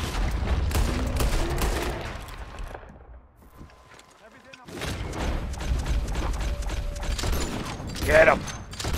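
Pistol shots fired at a bear in the video game Red Dead Redemption 2, with a loud busy game soundscape, a quieter lull midway, then dense sharp bursts and a standout crack near the end.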